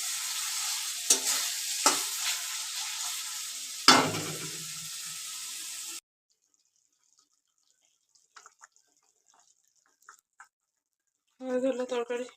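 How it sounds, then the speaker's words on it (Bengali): Spices and potatoes fry in a pan with a loud, hissing sizzle and a few utensil clanks for about six seconds. Near silence follows, then a short burst of voice at the end. "মশলাগুলো ভাজা হচ্ছে, আলু দেবো ভাজা হবে"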